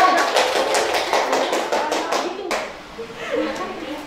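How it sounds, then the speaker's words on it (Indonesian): Group of people clapping hands together in a classroom, rapid overlapping claps for about two and a half seconds, then fading into quieter scattered sounds and murmuring. "Tepuk tangan dulu semua."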